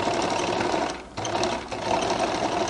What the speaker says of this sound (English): where I just finished sewing my stitch.